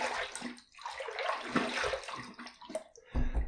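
Water runs steadily as a safety razor is rinsed after a third shaving pass, a broad splashing hiss that shifts as the blade moves through the stream, with a few louder splashes near the end.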